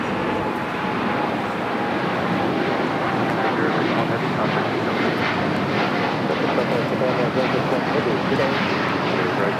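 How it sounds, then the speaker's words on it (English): A Boeing 787-8 Dreamliner jet at Los Angeles International Airport produces a steady, loud, broadband engine roar throughout, with a voice talking over it. "Flight 61 heading to Tokyo Narita on the 787-8 Dreamliner."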